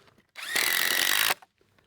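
A power drill drives a screw into a wooden firewood rack built from free materials: one loud, steady whirring burst under a second long, ending abruptly, with a faint clack after and quiet around it.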